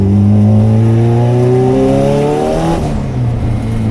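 A 600-horsepower LS-swapped VTEC Honda Civic EP engine revs hard under boost, loud and close, its pitch sweeping upward steadily before easing slightly near the end, with no talking.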